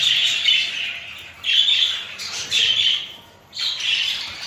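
Birds squawking loudly and close, four harsh, drawn-out calls in steady succession with brief pauses between them.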